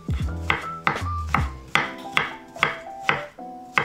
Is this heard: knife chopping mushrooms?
yes